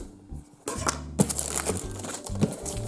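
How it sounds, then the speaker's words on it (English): A knife scraping and peeling a label off a plastic bottle, with crinkly tearing and rustling bursts and a few sharper crackles, close up. "The first job is to get this label off, so let's just use a knife"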